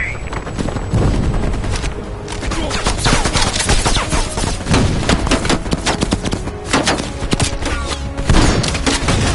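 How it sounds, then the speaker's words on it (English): Machine gun fire in Call of Duty Black Ops Cold War, a dug-in MG emplacement firing in loud, dense bursts with thumps and booms throughout a continuous battle soundscape. "Mel, you're gonna have to flank that MG."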